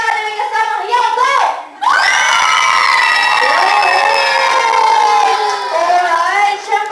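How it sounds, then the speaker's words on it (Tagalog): A group at a first birthday party erupts in loud, sustained shouting and cheering, mostly high, drawn-out voices, with a brief pause before the noise swells again. Clapping is only faintly present underneath. "palakasan ng palakpakan na may kasamang hiyaw"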